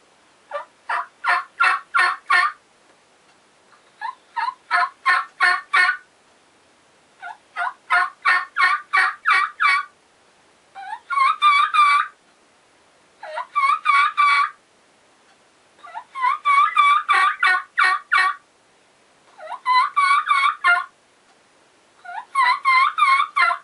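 Hand-made diaphragm mouth call imitating a wild turkey, sounding repeated series of sharp yelps and quick kiki whistles in evenly spaced bursts, loud and close with silent gaps between each run.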